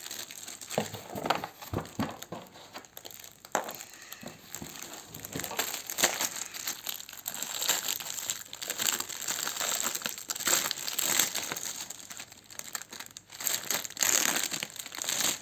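A large paper map is unfolded from a kit box, with near continuous crinkling and crumpling close by, in irregular bursts that swell and ease over about fifteen seconds.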